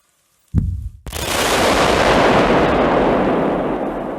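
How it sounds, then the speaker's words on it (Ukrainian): A sharp initial bang, then a second massive blast that rolls into a long, loud, roaring rumble lasting several seconds, with no voices, as a military column hits a minefield during a defense forces exercise. "Ворожа колона натрапила на смугу мінно-вибухових загороджень."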